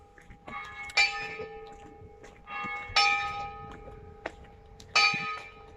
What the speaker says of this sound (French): il y a les cloches de l'église